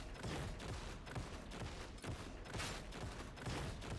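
Combat shotguns firing in the video game Darktide, a dense, continuous barrage of rapid shots and impacts, loud and busy with no pauses.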